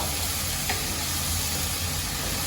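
Spices, including red chilli powder, sizzle in hot oil for Khandeshi eggplant bharit, giving a dense, even hiss that is close and constant with no voices over it.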